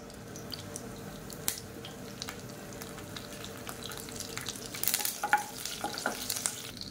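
Mustard seeds and curry leaves fry in hot oil for a tomato curry, giving a steady, quiet crackle with scattered small pops and a few louder spits toward the end, alone with no voices.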